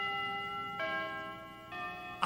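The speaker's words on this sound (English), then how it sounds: "A great sounding doorbell." A two-tone doorbell chime rings twice, each bright ding ringing out and fading, with a quiet room around it.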